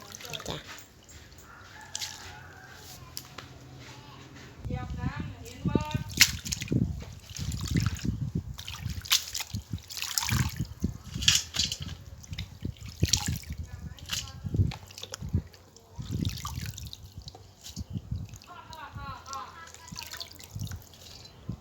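Water dripping and trickling from food drained in a strainer in a kitchen, a patter of close, irregular droplets and small splashes running steadily, with someone talking over it at times.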